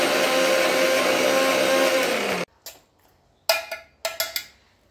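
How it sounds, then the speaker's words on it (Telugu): A kitchen mixer grinder blends onions, garlic, chili powder and salt into paste, running loud and steady for about two and a half seconds before cutting off, followed by a few sharp clattering knocks. "అవి వేసేసుకొని బాగా మిక్సీ పట్టేయండి"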